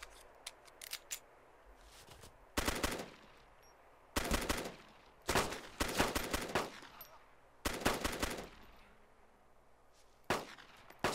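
Gunfire in the military video game Arma II: repeated bursts of automatic fire come in loud, sharp clusters separated by short quiet gaps, with faint ambient noise between them.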